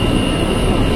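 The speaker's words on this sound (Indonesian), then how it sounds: "Nah itu ada komuter tujuan Bogor." A KRL commuter train bound for Bogor rolls past on the line near Bekasi Timur and Tambun, a steady, loud broadband rumble of wheels and cars with no pauses and no voices.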